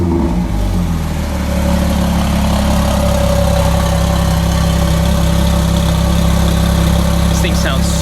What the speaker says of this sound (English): This thing sounds so good with the Boost Logic exhaust.